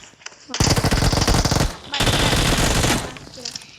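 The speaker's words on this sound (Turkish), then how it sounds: "Adamlar Uzi ile oynuyor." An Uzi submachine gun fires in a video game in two long, loud, rapid bursts, each roughly a second and a half, with a short gap between them and faint talk around them.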